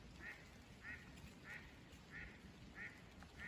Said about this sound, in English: And there's some ducks down there on the pond.